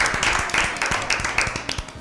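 Audience at an Easter Bible quiz applauds a team's correct answer, with scattered irregular hand claps at moderate distance, fairly quiet and brief.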